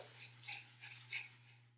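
A needy dog whimpers softly nearby, a few brief high whines and snuffling breaths over a quiet room hum.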